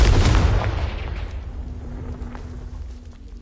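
A Confringo fire spell exploding in Hogwarts Legacy: a loud, close blast with a heavy low boom that decays into a rumbling tail over a few seconds.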